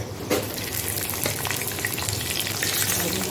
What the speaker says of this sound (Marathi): तर आता आपण कांदा जो बारीक कापून घेतला तो टाकूया।